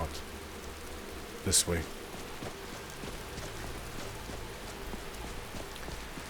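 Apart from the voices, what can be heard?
rain falling in a video game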